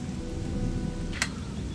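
Steady rain falls in a video game during a storm, a continuous dense wash of patter with one brief sharp crack partway through, evenly loud and without talk.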